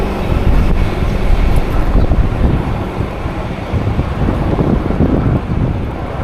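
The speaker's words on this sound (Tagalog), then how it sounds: "Buti may kunting simoy ng hangin," Light breeze outdoors on a hot day in Taiwan, heard as loud, rumbling buffeting wind noise against the microphone that rises and falls throughout.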